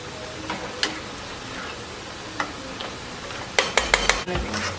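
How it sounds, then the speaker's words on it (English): Food stirred in a pot of seasoned potatoes, a faint bed of low bubbling broken by a few scattered scrapes, then a quick cluster of sharp spoon clinks against the pot near the end, with no talking. "I'm just gonna stir it on up"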